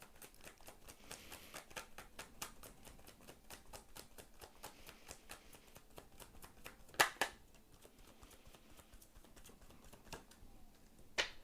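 Tarot cards shuffled and drawn during a reading, a steady run of soft crisp card riffles and flicks with a couple of sharper slaps near the end, fairly faint and close.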